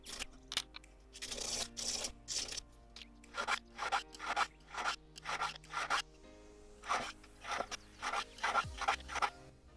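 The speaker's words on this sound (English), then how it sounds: "I also file and sand down the excess solder on the shanks." A file rasps over excess solder on the shanks of gold rings in quick bursts of short strokes with brief gaps, close and fairly quiet.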